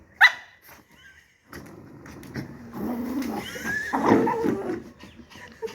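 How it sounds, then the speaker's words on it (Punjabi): A dog lets out a sharp bark near the start, then a few softer growls and low barks while other animal noises and movement continue, close by in an indoor setting. "ਇਹਨੇ ਭੌਂਕ ਕੇ ਦਿਖਾ ਦੇ ਫਿਰ ਇੱਕ ਵਾਰੀ"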